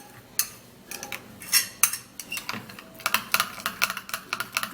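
Beetroot and banana face mask being stirred in a bowl, a run of close, sharp clinking and scraping taps from the utensil against the bowl, irregular and quickening, with no talk.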